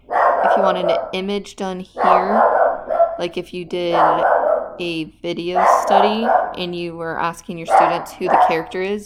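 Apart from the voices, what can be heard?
pet dog barking in the room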